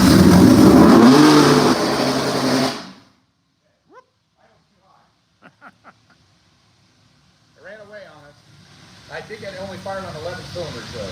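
A V12 race engine, starting up after a rod bearing failure, roars loudly and close for almost three seconds before cutting off. Near silence follows, then people talk.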